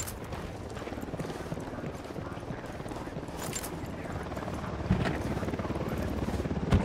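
A helicopter in the video game Ghost Recon Wildlands throbs with a continuous close rotor chop, dense and steady, with a few sharper thumps near the end.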